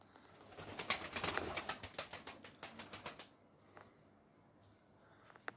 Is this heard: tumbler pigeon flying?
yes